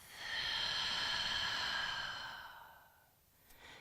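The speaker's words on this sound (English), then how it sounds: "And exhale through the mouth" During a yoga workout, one long, audible exhale through the mouth is heard up close. It is a breathy sigh lasting about two seconds, then it fades to quiet.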